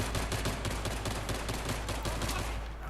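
Dense, continuous gunfire from the video game Battlefield 3, rapid overlapping shots and bursts crackling without pause, loud and close throughout.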